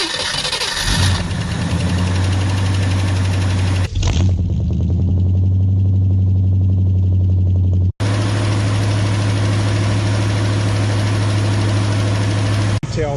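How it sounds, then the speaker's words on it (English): A 1965 Ford Fairlane with new hoses and radiator cranks and fires up, then settles into a loud, steady idle that holds for the rest of the stretch, briefly broken by one or two sharp gaps in the engine drone. "we're getting ready to start the Fairlane for the first time"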